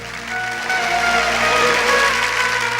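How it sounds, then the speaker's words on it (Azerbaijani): Wedding guests at an Azerbaijani toy celebration applaud in honour of mothers, a steady crowd clapping that swells after the first half-second and holds under sustained music. "Bir analarımızı alqışlayaq"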